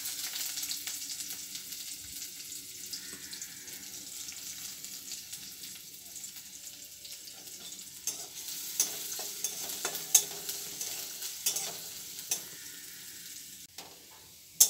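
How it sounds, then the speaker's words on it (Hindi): Onions frying in oil for a yam (ol) sabzi, alongside cloves and cardamom, give a soft continuous sizzle with a few light clicks and stirring taps toward the end, close but quiet. "अब प्याज डाल दे रहे हैं"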